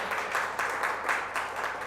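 A church congregation breaks into applause, a dense patter of many hands that swells in soft rhythmic waves, moderately loud and steady.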